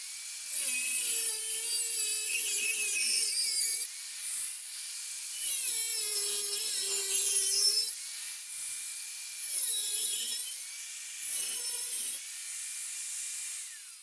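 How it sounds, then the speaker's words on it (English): A hand saw cuts steel filler pieces for a Kar 98 rifle's middle band, giving four runs of rasping, ringing metal strokes separated by short pauses, close and clear with no voices. "I'll use this steel to cut the filler pieces. I have it marked. Now to cut."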